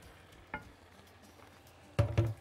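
A spoon stirs honey mustard sauce in a pan with a soft sizzle underneath, giving one light scrape early on and a louder cluster of scraping clinks near the end.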